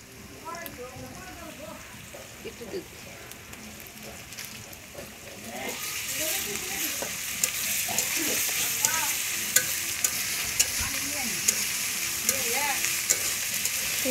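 Food stirred while it fries in a pan, scraping and clinking under a steady sizzle that swells louder about halfway through, with voices talking faintly in the background.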